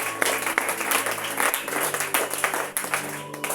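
A church congregation applauding, many hands clapping in a dense, lively patter with faint voices mixed in.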